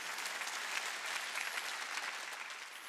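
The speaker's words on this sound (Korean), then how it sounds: "박수 치며 하나님께 영광을 박수 치며" A congregation at a Sunday healing service bursts into steady, dense applause to glorify God, the clapping filling the hall evenly from start to finish.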